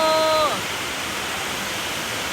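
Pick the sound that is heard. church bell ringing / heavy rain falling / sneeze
heavy rain falling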